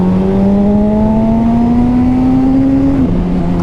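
Honda CBR Fireblade or CBR 600RR sport motorcycle engine on a ride, a loud, close, continuous exhaust drone whose pitch climbs steadily as it revs, then drops briefly near the end before holding again.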